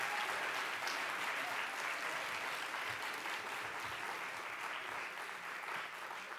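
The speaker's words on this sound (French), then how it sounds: "Donc, je vous prie de les applaudir." Sustained audience applause fills the room after an introductory speech opening a student selection event, steady dense clapping for several seconds with no voices over it.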